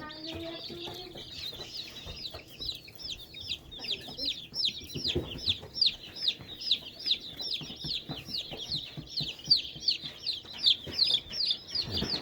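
A flock of newly arrived meat chickens keeps up rapid, high-pitched peeping and clucking close by, a dense steady chorus that runs throughout.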